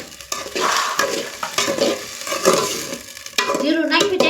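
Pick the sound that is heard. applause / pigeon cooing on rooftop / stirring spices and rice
stirring spices and rice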